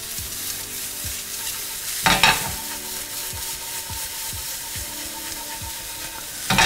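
A hot dog filling with grated paneer stir-fries in a pan, a continuous close hiss of frying under rhythmic scraping strokes, with a louder burst of sizzle and clatter partway through.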